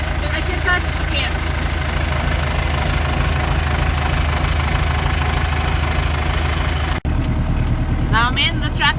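Tractor engine running with a steady low rumble and rhythmic knocking throughout, loud and close as if heard from the cab, with a brief dropout near the end.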